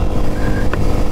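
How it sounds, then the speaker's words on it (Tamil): A Bajaj Pulsar F250 motorcycle cruises on a highway at 80-90 km/h, giving a loud, continuous engine rumble mixed with rushing wind, close and steady throughout. "வண்டி அசால்ட்டாக 80-90 ஈஸியாக க்ரூஸ் பண்ண முடியுது"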